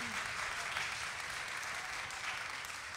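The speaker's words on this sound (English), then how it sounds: "How about another round of applause for that Fred Cantu big band?" An audience at the Chicago Latin Jazz Festival applauds a big band, a dense, steady wash of clapping that holds evenly for the whole stretch, fairly soft and distant.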